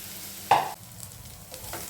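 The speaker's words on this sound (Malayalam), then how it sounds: "അതിലേക്ക് തേങ്ങ വറുക്കാം ചെറു തീയിൽ വേണം ഈ തേങ്ങയും വറുത്തെടുക്കാൻ" Grated coconut roasting in a pan over a low flame, a soft faint sizzle marked by one sharp scrape of a spoon and a couple of lighter stirring strokes after it.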